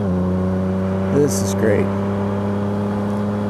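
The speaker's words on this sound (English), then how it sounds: "You can really hear what the engine is doing, finally." A car engine idles and rises in short revs through a carbon fiber aftermarket exhaust, giving a steady droning hum with two brief swells, while a person talks briefly over it.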